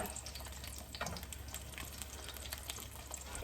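A steady rush of water from a kitchen tap runs throughout, close and fairly loud, with small clinks and splashes mixed in.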